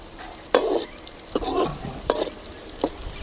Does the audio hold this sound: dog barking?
no